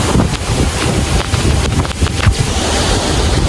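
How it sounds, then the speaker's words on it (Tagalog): Bomod-ok Falls waterfall in Sagada, a loud, steady broadband roar of rushing water close to the listener, with no speech. "Gusto ko lang titigan yung falls."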